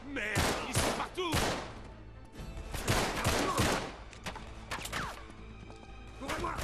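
Gunfight in Uncharted 3 on PS4, repeated sharp gunshots and volleys scattered irregularly across the clip, moderately loud, with voices talking in French over the shooting.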